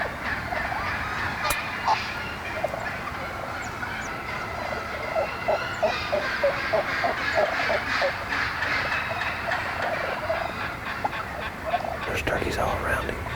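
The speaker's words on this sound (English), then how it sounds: "There's turkeys all around him." A flock of wild turkeys gobbles and clucks continuously in the distance during a fall hunt, a busy chorus of rapid bursts over steady outdoor background.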